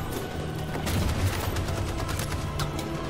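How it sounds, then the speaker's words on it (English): Dense, continuous machine gun fire during a firefight in the video game Detroit: Become Human, loud sustained rattling bursts over a rumbling backdrop of battle noise. "that machine gun is being a pain in the ass"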